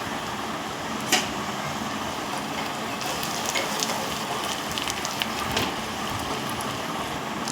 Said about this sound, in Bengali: তড়কাতে আমি একটু জিরের ফোড়ন দিয়েছি